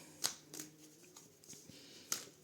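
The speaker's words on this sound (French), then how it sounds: "On va mélanger un petit peu" Tarot cards being shuffled by hand, giving a few soft, close riffling bursts spaced apart in a quiet room.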